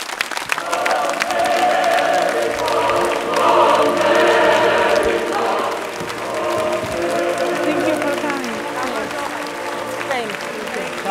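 A television studio audience greets guests with loud, sustained applause and cheering that rises mid-way, while voices carry on over the clapping.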